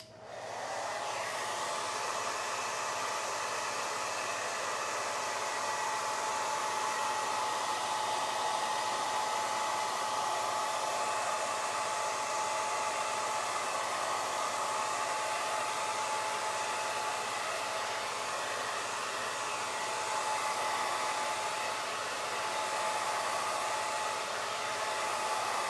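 Hot air craft dryer blowing over a chalk paste stencil on a craft piece, a loud steady whooshing drone close by that holds without a break throughout.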